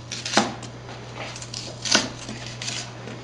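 Knife chopping onion on a cutting board in a home kitchen, two distinct sharp cuts close by over a steady low hum, with faint scattered taps between them.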